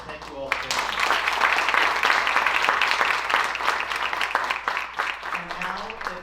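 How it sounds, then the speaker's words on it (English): Applause from an audience at a 2023 Italian scholarships and awards ceremony, acknowledging donors; clapping builds after a brief pause and continues steadily, with voices mixed in underneath. "And a big round of applause for our donors."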